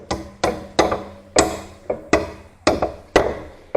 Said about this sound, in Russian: Немножко забиваем ее.